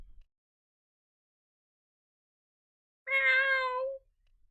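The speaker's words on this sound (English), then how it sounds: "There's a cat getting attacked by a monster." A single short cat meow, clear and tonal, from the video game Another Eden, heard alone in otherwise near silence.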